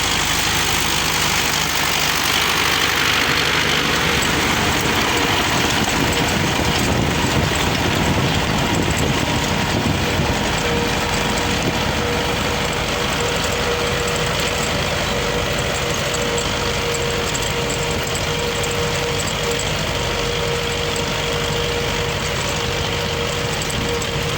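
A YuMZ tractor engine runs steadily while ploughing in autumn, a loud continuous low diesel drone with a faint knocking edge that holds for the whole stretch, with no talking.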